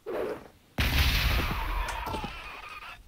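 Grenade blasts in the Warhammer 40k Gladius strategy game, Imperium mod: a short thud, then a loud broadband explosion with crackling debris that rumbles on and decays slowly.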